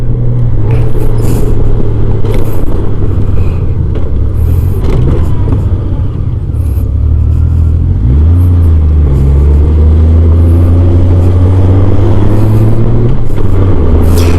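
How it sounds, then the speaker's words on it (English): A 1991 Honda Goldwing GL1500 motorcycle pulling a trailer around a residential neighborhood, a loud, close engine hum with rising and falling pitch as it accelerates and shifts, and steady wind rush throughout. "So we're just going to go around my neighborhood here as I get the hang of pulling a trailer on the motorcycle."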